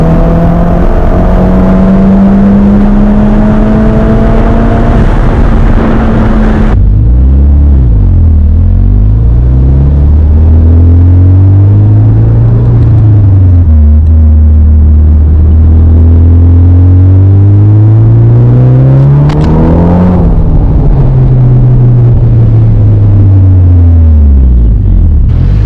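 Mitsubishi Evo X with an MHI 18K turbo rumbling on the road, a loud, steady low engine drone that rises and falls through several revs and shifts, heard from inside the car with no talking.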